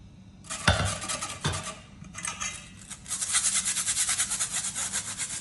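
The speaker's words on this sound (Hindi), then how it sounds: "अभी जिस बर्तन में आपको पतौड़ बनाने हैं उसमें डायरेक्ट इस घोल को छान लीजिए" Gram flour batter being strained into a cooking pot, with scraping and rubbing strokes against a metal strainer, a couple of sharp clinks early on, then a quick rhythmic run of scrubbing passes, close and moderately loud.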